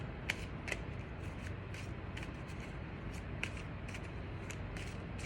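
Tarot cards are shuffled by hand at close range, quiet papery riffles broken by soft crisp snaps, with no talking.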